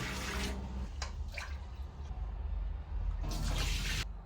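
Rice in a pot being rinsed with water, swirled and the water poured off, a steady wet sloshing and running-water wash with splashy surges near the start and end, close by with no talk.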